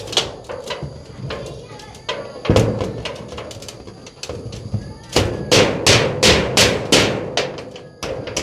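Repeated hammer blows drive nails at a kitchen construction site, a run of sharp, loud strikes in uneven bursts, sparse at first and then rapid and dense, with workers talking around them.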